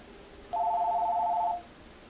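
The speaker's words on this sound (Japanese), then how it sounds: "ちゃんとね、電話がね、かかってきたら、もしもしするんだよ。" A telephone rings once, a steady electronic warble lasting about a second against a quiet room, loud and close, with no voices over it.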